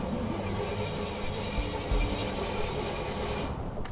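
Blown Jaguar-engined rat rod running hot, a steady loud low engine rumble with a rougher surge near the end, close and alone with no talk.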